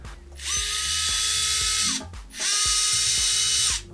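A Bosch GO 3 electric screwdriver spins up twice in two steady whirring bursts, each roughly a second and a half long with a slight whine, close and loud, separated by a short pause.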